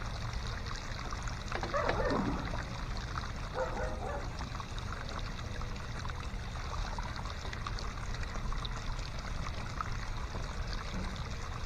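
Water runs through a sluice box used for prospecting, a steady nearby trickling and pouring flow that continues throughout, with a dog barking briefly in the background.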